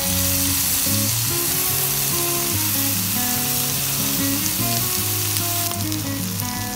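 Beef fries in butter with chili while being stirred in a pan, producing a loud, dense, continuous sizzle with scraping and stirring motions, close up and with no talking.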